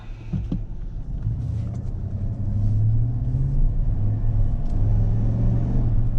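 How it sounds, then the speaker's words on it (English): A 2020 GMC Sierra 1500 pickup truck engine rumbles steadily, then swells louder as it accelerates, a low smooth drone with a rising tone and quiet exhaust, heard from inside the cab. "Whoa, that's a nice acceleration there."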